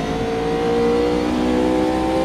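GT3 race car engine in the Automobilista 2 racing game at the Circuit of Jerez, a loud, steady, close engine drone holding high revs throughout with no talk.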